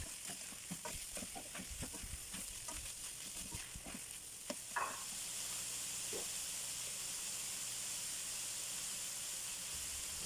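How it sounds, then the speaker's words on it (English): Crumbled firm tofu frying with onion and garlic for a vegan spring roll filling gives a steady close sizzle and hiss, with stirring scrapes and clicks through the first half before it settles into an even frying hiss. "now she's ready to add her crumbled firm tofu to the mix and start to cook it together with her onion and garlic"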